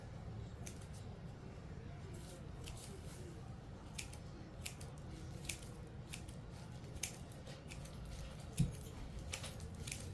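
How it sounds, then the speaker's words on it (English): Repeated crisp scissor snips, close by, in an irregular rhythm over a low steady hum, with a small thud near the end. "I'm just cutting off the stuff that's hanging."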